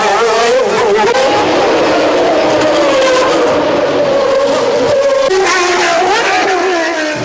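Ayrton Senna's race car howls through the Monaco street circuit, a loud, close high-revving engine whine that sweeps up and down through gear changes with brief drops between corners.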